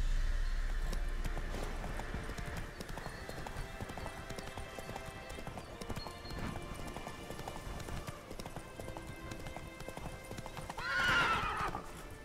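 A horse clip-clops steadily in The Witcher video game, with hooves drumming in a continuous rhythm at moderate distance. Near the end there is a loud, clear neigh.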